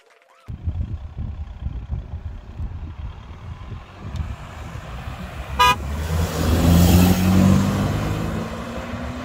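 A BMW E90 2.0i with 150 HP and an Audi A4 B6 1.9 TDI race side by side on a drag strip. Distant engine noise grows louder as they accelerate, a brief horn toot sounds midway, and the roar keeps building toward the end.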